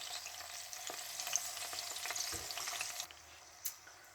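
Tomatoes laid in oil hiss in a pan over very low heat with a steady, soft sizzle, a few light clicks of the pan breaking through, no voices.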